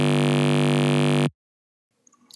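Serum synth dubstep bass built on the Squelchy 2 oscillator pitched down two octaves, a loud, dense, sustained tone that holds steady for over a second and then cuts off abruptly, followed by faint scattered noise.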